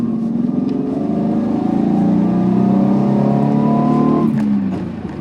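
A 1984 Nissan 300ZX (Z31) engine accelerates from inside the car, its loud, steady drone climbing in pitch before a gear change near the end. Nobody speaks.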